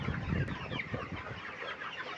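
Flock of poultry-shed chickens crowding where feed was put out, giving a dense, continuous murmur of clucking close by, with no talk over it.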